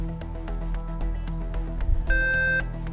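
A short electronic quiz buzzer tone sounds once near the end of a quiz show round, cutting through a backdrop of music with bright, repeated hits.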